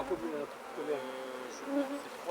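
Honey bees buzzing near a container of powdered sugar during a varroa mite sugar-shake test, a close, wavering drone with rising and falling pitch lasting a couple of seconds.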